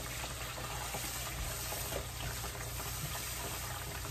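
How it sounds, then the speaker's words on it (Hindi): Ginger water is poured into a simmering eggplant masala with tamarind for Hyderabadi stuffed eggplant, giving a steady, even liquid wash and sizzle with no break, under a constant background hum. "इसमें अदरक का पानी ऐड करें"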